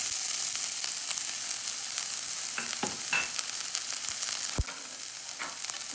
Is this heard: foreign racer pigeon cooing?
no